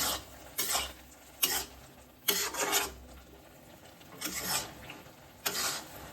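Mashed brinjal bharta roasting over a medium flame is stirred and scraped in a pan, producing repeated rasping strokes at an uneven rhythm above a soft background sizzle, close and without voices.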